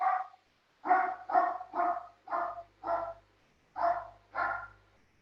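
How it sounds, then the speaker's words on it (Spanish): A dog barks seven times in a steady, close series of sharp woofs against a low background hum, with no speech. "Justo se escuchó con un perro o algo así"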